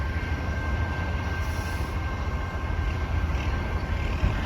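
A Michigan Shore Railroad train departing and rolling past, a steady, loud rumble of wheels on rail with a constant mechanical drone throughout, no voices.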